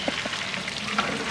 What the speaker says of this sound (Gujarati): અને આ છે લીલો વઘાર